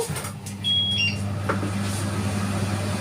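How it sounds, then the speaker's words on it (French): An electric pressure cooker is being set for pressure cooking: a few short, high electronic button beeps sound over a low, steady appliance hum. "je vais mettre la cuisson sous pression"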